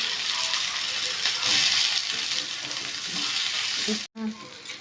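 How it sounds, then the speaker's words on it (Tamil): Onions sautéing in a pan, a loud continuous frying sizzle with stirring scrapes that swells midway, then cuts out abruptly before resuming briefly. "இப்போ நல்லா வதங்கட்டும்"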